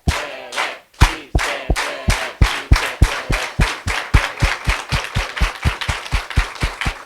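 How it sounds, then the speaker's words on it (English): A large audience at a speaker event performs an organized hand clap, loud unified claps that speed up steadily from a slow beat to a rapid rhythm, with crowd voices underneath. "let's do it all together with an organized hand clap"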